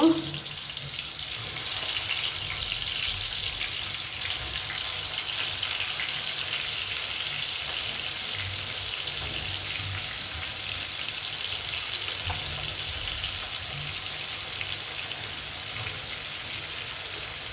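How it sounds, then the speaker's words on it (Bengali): Fish frying in mustard oil in a pan, a steady broadband sizzle and crackle running continuously and close at an even level from start to finish, with no talking over it. "মাছটি আমি ভালো করে ভেজে নিব"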